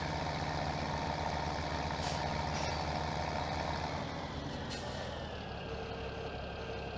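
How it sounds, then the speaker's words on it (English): Farm tractor driving in Farming Simulator 2017, a steady, loud engine drone with a deep low rumble throughout, a couple of brief hissing bursts like air releases partway through, and no talking. "Take the tractor back."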